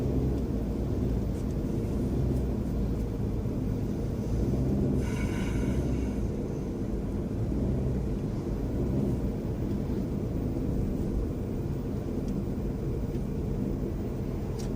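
A car held at wide open throttle but gaining speed sluggishly gives a loud, continuous low engine drone that stays steady throughout, with no talking over it.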